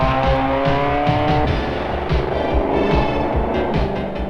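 Off-road race cars leave the start of the Frontier 500 one at a time, engines revving loudly and accelerating past at close range, overlapping roars filling the stretch without pause.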